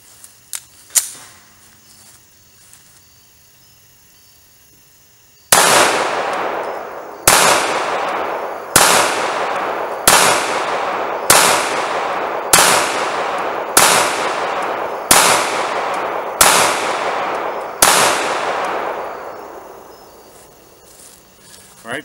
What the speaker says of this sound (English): Alright, 10 shots, slide locks back with no problem.